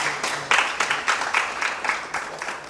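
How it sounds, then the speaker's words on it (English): Audience applause for the panelists at the close of a fireside chat on mobility in Nigeria, a steady patter of many hands clapping with small swells, fairly close and loud, with no talk over it. "let's applaud our panelists"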